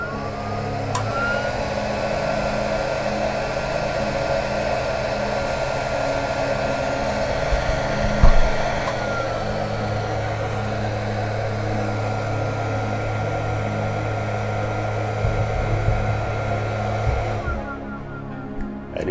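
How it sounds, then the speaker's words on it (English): An industrial power supply powers up and its cooling fan runs loud, a steady whirring drone with a faint tonal whine that holds throughout, a couple of brief clicks midway, before it winds down at the end. "It's getting loud, of course, it's power supply"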